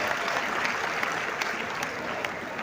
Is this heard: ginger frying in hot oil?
no